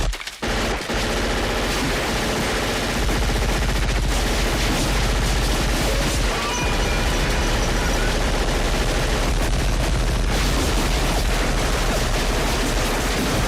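Dense, relentless gunfire from the film Predator, with rapid fusillades and machine-gun bursts rolling into heavy blasts as jungle vegetation is shot up and blown apart, loud and continuous with no talking.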